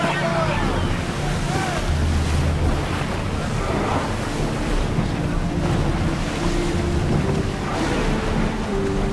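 Ship in Assassin's Creed Odyssey cutting across open sea, a steady broadband rush of waves and wind with low creaking hull tones throughout, loud and continuous.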